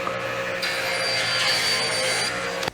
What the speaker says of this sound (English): 9 7/8 is how I want to cut my HDPE to start